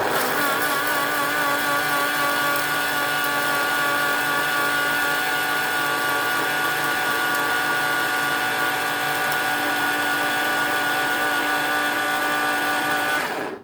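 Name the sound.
electric grinder grinding homemade spices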